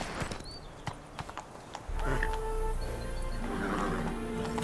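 A horse in The Witcher 3 clip-clops at a steady trot, hooves close and crisp, then a loud whinny rises over continuous hoofbeats and outdoor ambience.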